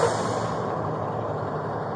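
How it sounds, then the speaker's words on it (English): A truck rumbles past nearby in a suburban Chandler, Arizona neighborhood, a loud steady broadband roar with a hiss of air brakes, filling the whole two seconds with no talk. "That truck's going to be really loud."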